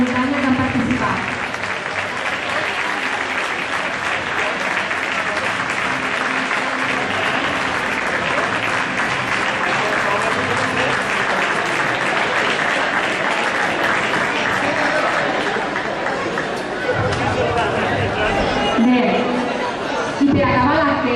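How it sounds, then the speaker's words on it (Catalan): A large audience claps continuously at an awards ceremony for mountain races, with loud, dense applause and chatter underneath, lasting throughout. "Dediquem un últim aplaudiment a totes les curses de muntanya que han participat"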